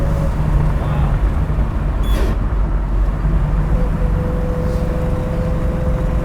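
A 1969 Camaro RS/SS with a 427 V8 pulls hard in fourth gear, heard from inside the cabin as a loud, steady, dense engine roar with a low drone that holds for the whole stretch.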